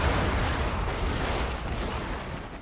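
Massed musket fire from troops in the video game Fall of the Samurai, a dense continuous crackle of volleys, steady and fairly loud throughout, with no talk over it.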